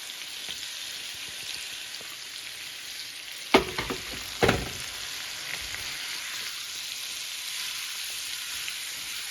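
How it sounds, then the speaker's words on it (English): Chopped onion sizzles steadily in a hot pan, a dense continuous frying hiss with two brief louder crackles or stirring knocks partway through and no one talking. "now I am going to add in the onion"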